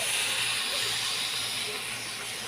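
Milk is poured into a hot pan with roasting coconut powder, giving a loud, continuous hiss that stays even throughout, close and with no talking.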